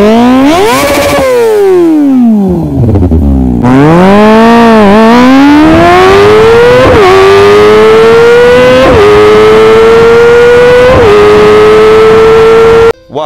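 A motorcycle fitted with a loud CLD Monster aftermarket exhaust revs hard close up, with sharp throttle blips dropping and climbing before it settles into a sustained, rising high-pitched roar.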